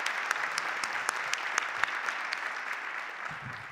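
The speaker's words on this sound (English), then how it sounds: "So a huge round of applause for all of their dedication." An audience at a high school band and orchestra winter concert gives sustained applause, with individual claps standing out over the crowd and faint voices in the background.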